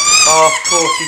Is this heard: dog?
yes